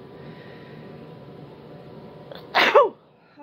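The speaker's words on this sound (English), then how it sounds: "Oh, I feel a sneeze coming." A woman lets out one sharp, loud sneeze close by after a few seconds of quiet indoor room hum.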